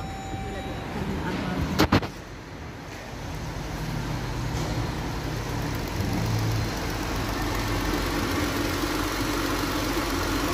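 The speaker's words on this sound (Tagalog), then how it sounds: "So obserbahan na natin yung makina." Car engine idling after coil and spark plug replacement and injector cleaning, still misfiring; starts with a couple of sharp clicks, then a steady close engine hum with slight unevenness, a voice talking over it.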